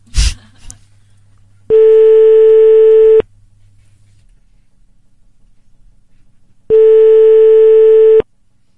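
A landline call rings out at midnight: two long, loud, evenly spaced ringback tones about five seconds apart, with near silence between them.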